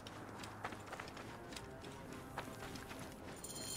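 Horses trot in Assassin's Creed Origins, their hooves making a quick, rhythmic clip-clop that runs steadily at modest volume with no voices.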